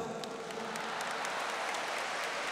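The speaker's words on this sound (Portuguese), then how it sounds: "Vamos aplaudir essa palavra do Senhor." Church congregation applauding, a steady, hissing wash of many hands clapping together that continues evenly throughout.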